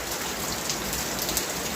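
Heavy rain falls in Bangalore as a dense, steady hiss that stays even and close throughout, with no voices over it.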